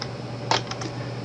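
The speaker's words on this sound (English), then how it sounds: "With this key held down, tap the letter R for Romeo on your keyboard." A single key press on a computer keyboard during Windows 8 setup, one sharp click followed by a couple of fainter taps against a quiet background hum.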